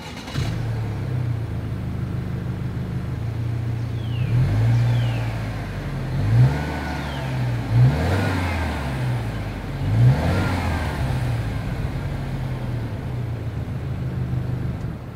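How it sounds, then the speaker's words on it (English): A 2022 Subaru Legacy XT with a dual stainless steel exhaust idles with a low rumble, then revs sharply three or four times in quick succession before settling back to a steady idle, close and loud. "As always, here is that exhaust clip."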